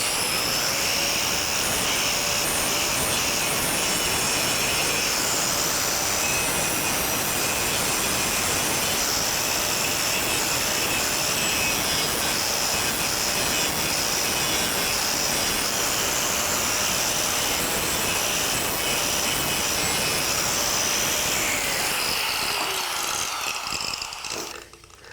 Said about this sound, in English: And I'm gonna just grind the surface.